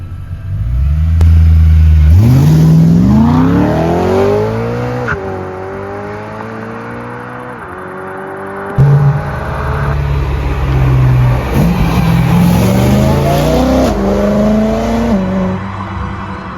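A BMW M3 E92 engine revs hard and loud, pitch sweeping up and falling back in repeated climbs, with a brief lull before it builds again, close by and alone with no talk.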